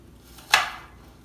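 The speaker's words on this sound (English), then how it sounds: "cut the larger pieces into smaller ones" A single sharp knife chop through chicken on a cutting board for chicken rice, one crisp close impact with a short decay and nothing else around it.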